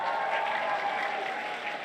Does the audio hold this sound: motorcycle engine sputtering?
no